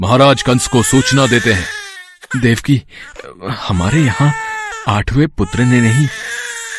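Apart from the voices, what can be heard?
baby crying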